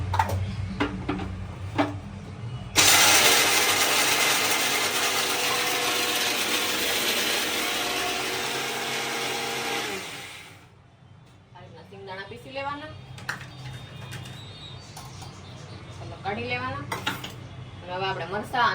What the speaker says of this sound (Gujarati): આપણે સિંગદાણાને પીસી લેવું